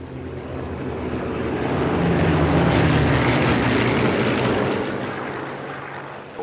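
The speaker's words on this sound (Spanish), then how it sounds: "Qué guapo los aviones, tío." Propeller aircraft fly overhead at an airfield in the video game Sniper Elite 3. Their loud engine drone swells, peaks in the middle and then fades away, with no speech.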